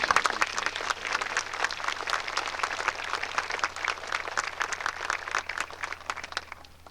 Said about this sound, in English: If you'd give them some applause, please.